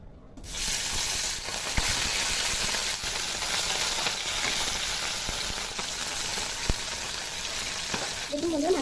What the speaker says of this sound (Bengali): এখন মাছগুলো ভেজে নেব।